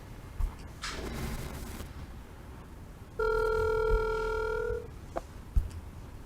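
A telephone ringing once with a loud, steady electronic tone for about a second and a half, surrounded by quiet room noise and a few soft knocks.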